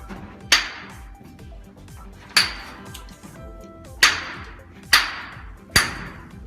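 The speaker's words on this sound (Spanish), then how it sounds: "vamos a usar una picota para ver la resistencia." Five sharp, loud blows of a pick hammer on a hard rock sample, spaced about one to two seconds apart, each a bright ringing crack with a short decay, no talk.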